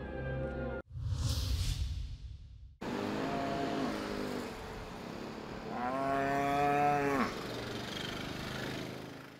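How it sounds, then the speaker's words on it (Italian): Cattle on a floating dairy farm in Rotterdam harbour give a couple of loud, drawn-out moos, following a brief burst of outdoor noise, with a low background hum between calls. "A Rotterdam 30 mucche occupano questa fattoria sull'acqua"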